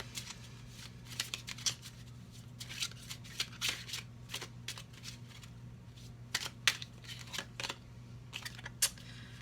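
Oracle cards are shuffled by hand in a quiet room: a run of crisp riffles, flicks and taps in irregular bursts over several seconds, close and fairly soft, with no talking.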